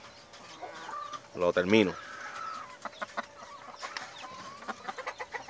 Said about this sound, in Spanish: Gallito grande, de buen cuerpo, buena constitución.